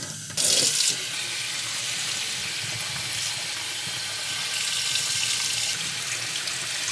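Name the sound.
tap water running to rinse meat in a saucepan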